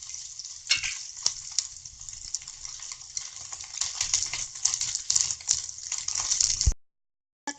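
Okra (bhindi) sizzles steadily in a pan on a gas stove, a loud, continuous hiss broken by occasional stirring scrapes, before cutting off abruptly.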